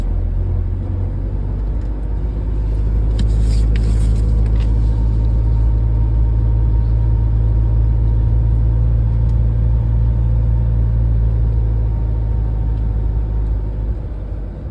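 A car engine labours up a steep hill near Hendre Mynach, Barmouth, a steady loud low drone and rumble that holds for the whole stretch without letting up.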